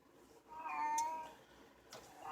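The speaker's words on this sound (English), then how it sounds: "I'm sorry for the musical stylings of cat number one in the background" A pet cat shut away in a bedroom meows in the background, a drawn-out wavering cry rising and fading over about a second, with a second shorter meow near the end, moderately faint and alone.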